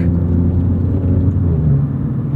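2018 Alfa Romeo Giulia Quadrifoglio engine running through gear shifts, a steady, loud, close low rumble and whir with only slight dips in level.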